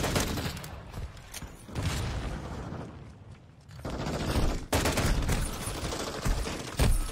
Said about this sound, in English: That dude was literally shooting another guy, and I got hit by the bullets.